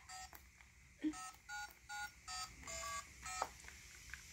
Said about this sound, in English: let me call George, see how she's doing.